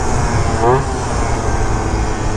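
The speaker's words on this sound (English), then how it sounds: "As you can hear, the carb feels really good." A Piaggio Typhoon scooter with an upgraded carburetor runs steadily close by, giving a continuous low, rough engine rumble over a broad noisy roar that holds even for the whole stretch.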